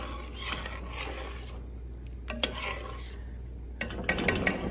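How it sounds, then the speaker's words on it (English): Tomato sauce and paste being stirred in a pot as it comes back to a boil, with soft swishing, a gentle bubbling bed and several sharp clinks of a utensil against the pot near the end, close by, no talk. "So we're gonna bring this back to a boil. Just stir that around."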